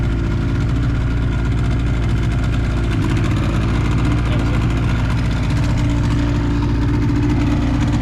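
The outboard motor of a Bayou sled boat idling as it warms up at a lake, a loud, close, steady low rumble that continues unchanged throughout.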